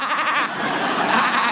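A woman imitates a sheep with a drawn-out, wavering bleat, close and loud, holding steady for over a second with no other talk.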